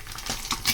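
Egg frying in a pan, a close, steady sizzle with small crackling bursts and faint stirring over a short stretch, no voices.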